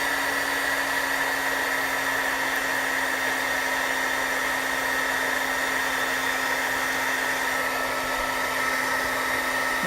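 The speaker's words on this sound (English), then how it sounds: "We're just going to hit that with the heat tool once again to melt that embossing powder." Heat tool blowing steadily to melt embossing powder on a card, a loud, constant close-up whine and rush of air with a hum running unbroken throughout, no voices.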